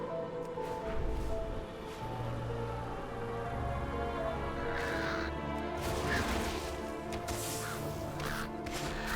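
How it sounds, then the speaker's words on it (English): Birds in World of Warcraft pecking at a character's face in Drustvar, heard as repeated crow-like caws and scattered sharp tapping over a steady game ambience. "Did you notice the bird sitting and pecking at his face?"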